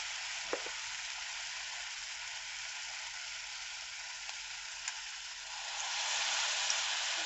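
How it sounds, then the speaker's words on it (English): Ripe plantain pieces frying in hot oil in small batches, a steady close sizzle throughout that swells louder near the end, with a few faint clicks and no talking. "we are going to fry just there like that."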